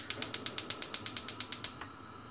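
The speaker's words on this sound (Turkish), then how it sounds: "Şimdi artık ocağın altını açıyorum." A gas stove knob is turned, giving a quick run of about fourteen evenly spaced igniter clicks, close and crisp, that stop abruptly, followed by a faint steady hiss.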